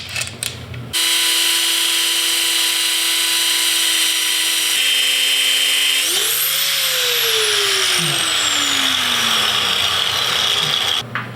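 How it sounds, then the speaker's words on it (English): An angle grinder shaves down a Dana 60 Super Duty axle ring gear, a loud, continuous high whine that shifts pitch partway through as the load changes, then winds down before cutting off. "Crouching down and letting the grinder do its thing."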